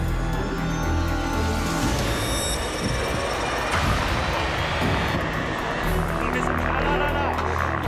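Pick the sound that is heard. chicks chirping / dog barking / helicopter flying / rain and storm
helicopter flying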